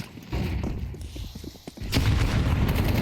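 Grenade blast in Counter-Strike 2 on the Inferno map during a tournament match: a sharp, loud boom bursts out near the end after some scattered thuds and gunfire-like knocks, with a faint voice underneath.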